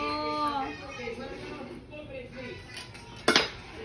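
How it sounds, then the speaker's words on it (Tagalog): A child pulls something from a metal cooking pot at home, a sharp clatter of pot and utensil near the end while adults speak throughout. "Bakit naman po kaldero yung kinakuhanan mo?"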